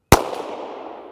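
A single sharp crack from a Ruger 57 handgun firing 5.7 rounds at a target, a loud close report with a long fading ring and a faint echo after the hit.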